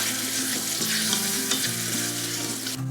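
A pot of chocolate-style glaze thinned with milk for a traditional boiled babka cake bubbles and hisses steadily as a spoon stirs it, a close, continuous sizzling texture with no talking.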